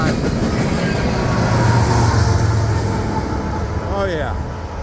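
An empty coal train with a distributed power unit rolls past on a siding, a loud sustained rumble and rattle of wagons close by, with a brief voice near the end.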